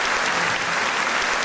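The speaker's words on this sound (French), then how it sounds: "Un fort applaudissement pour eux." Applause from a congregation at an evening Bible study gathering, a dense, steady clapping from many hands filling the whole moment at moderate volume, with no voices over it.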